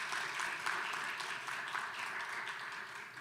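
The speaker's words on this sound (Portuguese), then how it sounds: "Uma salva de palmas para o Felipe." Audience at a circular-economy conference panel breaks into brief applause, a steady patter of many hands clapping for about three seconds at moderate volume.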